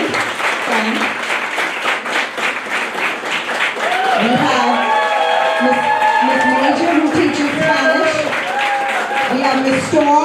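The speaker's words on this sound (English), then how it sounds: "I want us to give each of them a wonderful rousing round of applause." Applause for kindergarten teachers at a K5 promotion ceremony, steady clapping from the crowd with voices and children's chatter rising over it partway through.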